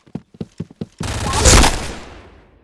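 Shooter video game gunfire: a few sharp clicks, then one long, loud burst of rapid fire that swells and slowly fades away.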